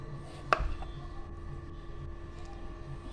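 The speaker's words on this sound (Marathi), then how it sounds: "आता आपण त्याला कापून घेऊया" A knife cuts once through a peeled potato for crisp potato slices, giving a single sharp, close chop against a steady low background hum, with no talking.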